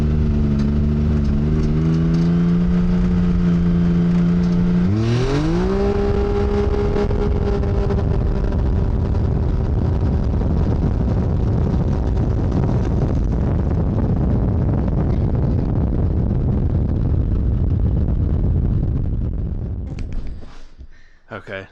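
Clutched Can-Am X3 side-by-side with a float mod pulls from a roughly 10 mph rolling start, its engine note climbing through one sustained, loud acceleration over heavy wind rush before easing off at the end.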